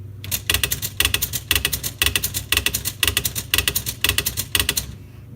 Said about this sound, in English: If I hit word eraser, I can wipe out the whole word.